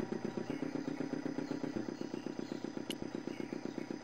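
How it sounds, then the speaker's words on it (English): An old electricity generator motor in the Broken Sword adventure game sputters steadily, a fast rhythmic chugging putter at moderate level with a faint clank partway through. "The motor spluttered into life."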